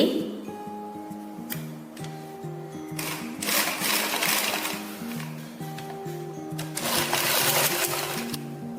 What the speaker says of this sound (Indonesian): Caranya kita jahit dulu pinggiran kainnya ini setengah senti.